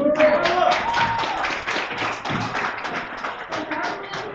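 An audience at an IT League award ceremony applauds, with scattered claps and taps building under a voice at the start, then continuing at a moderate, uneven level.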